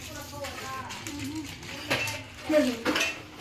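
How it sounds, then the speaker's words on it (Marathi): Dishes and pots are being scrubbed and washed, giving close, irregular clinks and clatters of metal and crockery. Voices talk over the clatter. "ओ वाव तर भांडी घासायला लागली"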